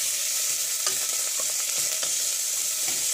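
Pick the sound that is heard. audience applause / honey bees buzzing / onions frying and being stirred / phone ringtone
onions frying and being stirred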